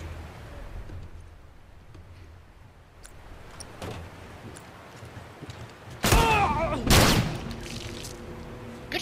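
Gunshots in The Last of Us: a couple of sharp cracks against a low background, then two loud bursts close together toward the end, each ringing out briefly.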